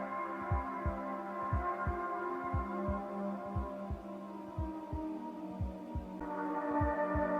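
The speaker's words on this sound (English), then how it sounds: "More of that heartbeat sound." In an album track, a deep, steady heartbeat-like thump repeats about three times a second under sustained, humming synth tones that brighten toward the end.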